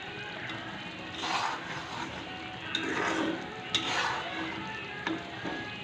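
Yogurt and potol (pointed gourd) curry simmering slowly in a pan, a soft continuous bubbling sizzle with occasional stirring scrapes and a few light ticks, close and steady with no talk.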